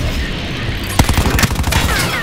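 Shotgun blasts in Call of Duty: Black Ops 4 multiplayer, a loud close burst followed by several sharp rapid shots amid steady game ambience.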